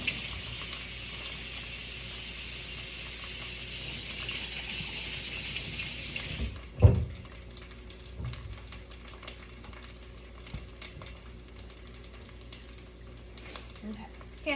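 Running tap water pours steadily onto hands in a kitchen, a loud, even hiss for several seconds before the faucet stops with a soft thump, leaving quieter clatter.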